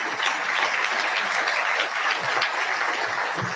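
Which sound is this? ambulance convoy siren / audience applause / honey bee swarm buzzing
audience applause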